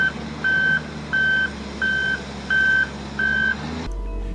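Reversing beeps from a dump truck: steady, evenly spaced loud electronic tones, about six in a row, over a constant low engine rumble, cut off abruptly near the end.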